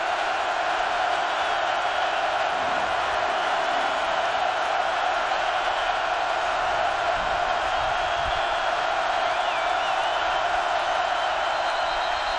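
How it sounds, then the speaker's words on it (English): A packed football stadium crowd roars continuously during a 2015 college game between Michigan and Penn State, a dense, loud wall of cheering and shouting that holds steady throughout with no clear pauses. "listen to this crowd"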